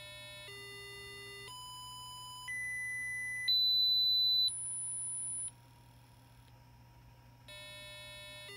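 Arduino speaker driven by the Tone function plays a stepped series of steady electronic test tones, each held about a second. The pitch climbs to a very high whine, drops back down, then jumps up again over a faint background hum.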